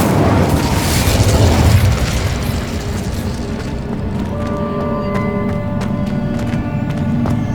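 A fiery Incendio spell bursts in Hogwarts Legacy with a loud, dense whoosh and boom in the first two seconds, then rumbles on as a steady roar while a bright layered magical shimmer and music-like tones ring over it.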